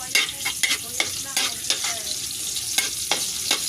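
Chopped garlic sautéing in a pan for chicken adobo made with native chicken, a steady sizzle and hiss broken by repeated scraping stirs of a utensil, close and fairly loud with no talking.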